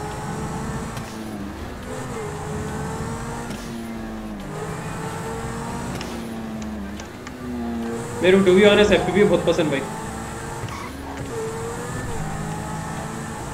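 Car driving in GTA V near a military area, a steady mid-pitched engine drone under continuous talking, with a louder surge of engine and crash-like noise around the middle before settling back.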